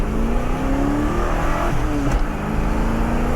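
A 1988 Ford Mustang 5.0 with a five-speed manual pulls hard in first gear, its V8 note rising steadily in pitch as revs climb, loud and close, with a brief shift-like break near the end.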